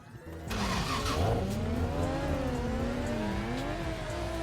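Engines of drifting cars, a Mazda RX-7 FC and E92s, in the Torque Drift game at Hakone, with a sudden start into sustained revving that wavers in pitch and faint tire squeal.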